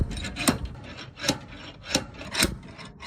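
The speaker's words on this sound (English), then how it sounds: "Now we pull out this axle and take a look." The worn rear axle of an electric tricycle is pulled out, producing several separate scraping, grinding rubs of metal sliding against metal, close and moderately loud with short pauses between them.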